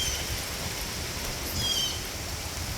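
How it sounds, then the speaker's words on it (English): Rain falls during Hurricane Milton, heard as a steady, dense hiss with no break over a few seconds and a slight swell midway. No one speaks. "Now we're just walking in the rain for fun."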